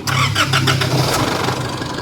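The 2.5-litre common-rail diesel engine of an Isuzu D-Max pickup with about 190,000 km cranks and catches, then settles into a steady, loud idle close by, with a few rhythmic pulses as it starts.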